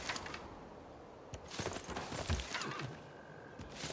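Horse hooves from mounted units in Civilization 6, a few scattered clip-clop bursts of quiet clattering steps at a moderate distance, with soft interface-like clicks between them and no talking.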